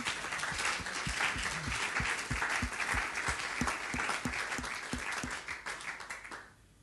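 A church congregation applauds together, steady loud clapping that fills the room before fading out near the end; a rhythmic low thump beats along beneath it.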